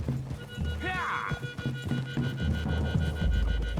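A horse in Red Dead Redemption 2 gives a short whinny near the start, followed by scattered hoof thuds and clip-clops on soft ground, close and clear amid in-game ambience.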